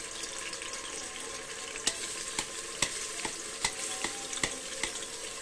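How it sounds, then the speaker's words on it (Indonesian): Spice paste sautéing in hot oil for a crab-skin-cracker rendang, a steady broadband sizzle broken by several sharp scraping stir strokes in an uneven rhythm, close and moderately loud, no talking. "Kita tumis bumbunya sampai harum."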